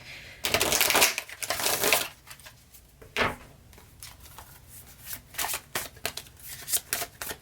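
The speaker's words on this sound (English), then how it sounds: "I want to shuffle this one more time." Tarot cards are shuffled in rapid riffling bursts, close and crisp, with a long flurry at the start followed by shorter snaps and pauses.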